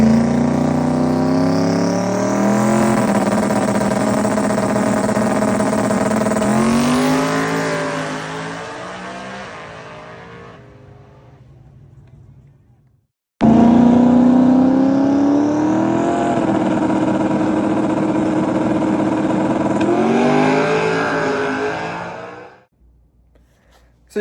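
A twin-turbo Coyote-engined car on a drag pass: two long, loud accelerating runs with engine pitch climbing through gear changes, each fading away, split by a brief silence.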